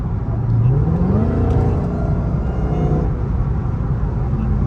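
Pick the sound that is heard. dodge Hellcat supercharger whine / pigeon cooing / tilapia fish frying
dodge Hellcat supercharger whine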